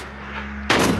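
Bomb blast in a zombie-hunting video game: a sudden loud explosive burst cuts in near the end over a steady droning game background.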